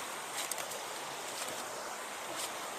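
Steady broadband rush of a forest stream flowing along a steep jungle trail, a continuous wash of water with faint wind, no talking over it.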